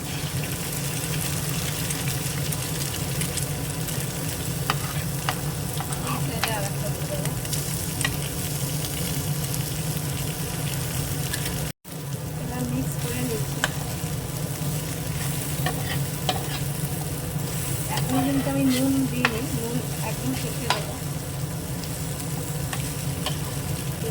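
Mushroom and egg fry in a little oil in a pan, a steady close sizzle with stirring and scraping throughout, one brief cut midway and a louder crackling flare near the end.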